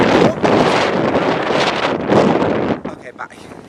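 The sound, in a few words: strong wind during Hurricane Sandy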